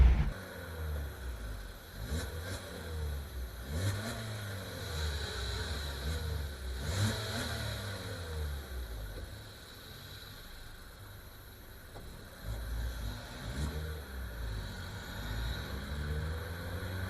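A 1.4-litre Opel Corsa engine revs up and drops back through downshifts while driving, with a steady droning note that rises and falls repeatedly, heard close and continuous with no talking.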